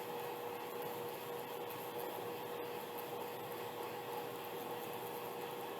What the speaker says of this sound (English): I will use the hair blower to speed up the drying